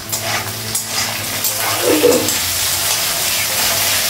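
Vegetables stir-fry in a wok with green and dried chillies, a steady bright sizzle with scraping stir strokes and a brief clink of utensils midway.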